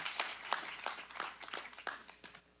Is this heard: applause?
yes